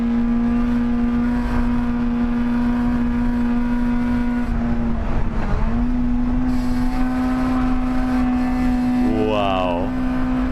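A front-wheel-drive hot hatch lapping the Nürburgring holds a loud, steady engine drone with a sustained tone and brief pitch dips around gear changes, while a person talks over it.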